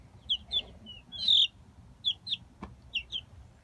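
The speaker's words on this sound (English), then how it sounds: "The crazy chickens." Chickens clucking and calling in short bright bursts, several close calls in quick succession over a low steady background rumble, with one sharp click midway.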